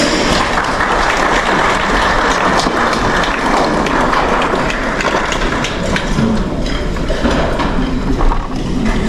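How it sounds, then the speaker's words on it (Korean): A large audience at a seminar in the Busan Lotte Hotel applauds during a plaque presentation, sustaining dense, loud, continuous clapping throughout. "장명호 그룹장님, 큰 박수 부탁드리겠습니다"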